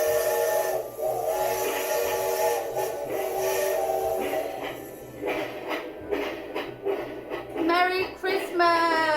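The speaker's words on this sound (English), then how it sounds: "Let out a loud blast from its whistle and sped away." A loud, sustained steam whistle blast from the Polar Express train sounds out with hissing steam, followed by chuffing as the train moves off.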